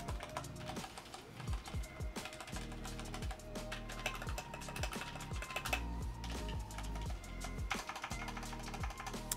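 Tactile mechanical keyboard with brown switches being typed on steadily, a dense run of close, fairly loud keystroke clicks and clacks with no talking.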